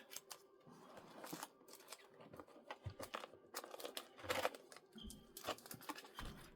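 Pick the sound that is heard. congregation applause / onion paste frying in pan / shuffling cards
shuffling cards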